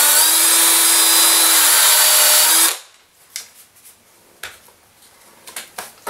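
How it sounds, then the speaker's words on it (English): Drill with a Forstner bit reaming through foam, a loud, steady high-pitched motor whine for nearly three seconds that stops abruptly, followed by scattered light knocks and handling clatter. "I took the Forstner bit again and reamed that"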